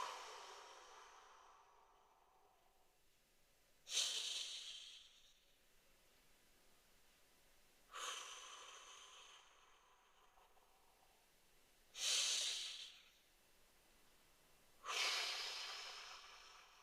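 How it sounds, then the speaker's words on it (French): Slow, deliberate breaths in through the nose and out through the mouth during a guided relaxation exercise, four soft airy exhalations spaced about four seconds apart, close and quiet with near silence between. "On va inspirer 3 fois par le nez et on expire par la bouche."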